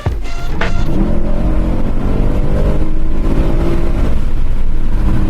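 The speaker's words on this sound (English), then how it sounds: "That's what the car I'm in sounds like with the window open." A loud AMG sports car engine roars steadily at the 2012 Belgian Grand Prix, revving up at the start then holding a sustained high drone with wind rush, heard from inside with the window open.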